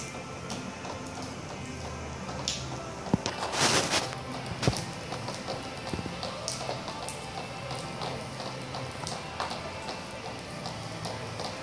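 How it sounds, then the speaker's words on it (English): Water leaking through a roof drips and patters irregularly onto surfaces indoors, with a louder splashing burst partway through, fairly close. "It's leaking a lot in here."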